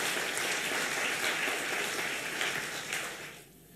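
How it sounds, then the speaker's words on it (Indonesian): A church congregation claps during a worship service, a dense, even burst of applause that fades out near the end. "Beri tepuk tangan dulu untuk Tuhan kita"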